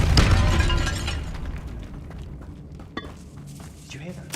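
A Depulso force spell is cast in Hogwarts Legacy inside a stone tomb with an altar and bones. A loud, booming burst opens, then fades into a quieter echoing space with a few faint clinks and thumps.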